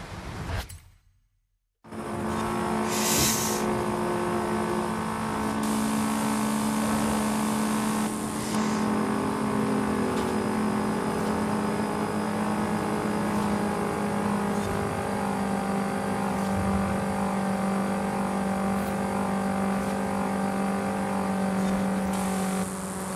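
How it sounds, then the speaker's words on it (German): A Fiat Abarth 131 rally car engine in a rally video game drones near the rev limiter after a brief silence, holding a loud, steady high-revving tone for over twenty seconds, with small fluctuations and no talking. "der Wagen ist bald im Drehzahlbegrenzer"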